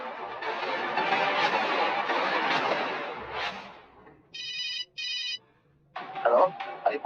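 A telephone ringtone for a late-night incoming call sounds as two short bright electronic bursts in quick succession, clear and close, after a stretch of dense background noise and before a voice begins speaking.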